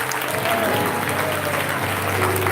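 A congregation at a Shabbat service applauds to honor God, a short burst of steady clapping with a low hum and some voices mixed in.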